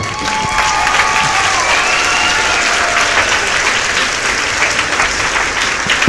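A church congregation claps loudly and steadily at close range in a dense, sustained burst, with faint voices and cheers mixed in.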